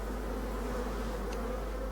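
Honeybees buzzing close around a hive entrance as they try to get back in through the small front hole, a steady dense hum with no pauses.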